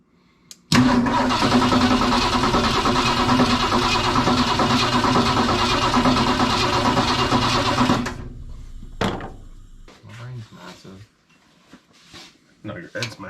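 A 1965 Ford F100 truck engine cranking and catching after years unused, running loud and rough for several seconds before cutting off, followed by voices and clanks nearby.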